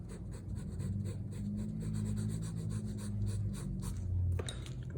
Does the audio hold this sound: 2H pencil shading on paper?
yes